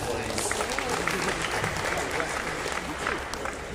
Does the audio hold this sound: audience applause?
yes